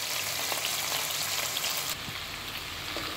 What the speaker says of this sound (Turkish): Etli soğanlarım da kavruldu.